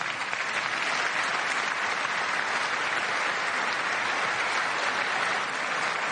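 Sustained audience applause at a large political address, a dense, even wash of clapping from a big crowd holding steady throughout with no speech over it.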